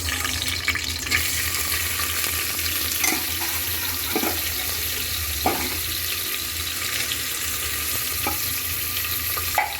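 Onions fry in a pan with a continuous bright sizzle, while a few scraping knocks from stirring rise now and then above the hiss.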